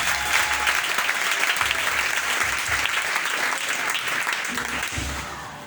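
A church congregation breaks into loud, sustained applause, a dense wash of clapping from many hands that fades slightly toward the end.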